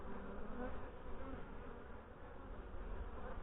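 Honey bees swarm over a hive frame, a dense, continuous buzzing hum close by and steady, with no voices.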